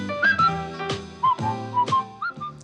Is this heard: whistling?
yes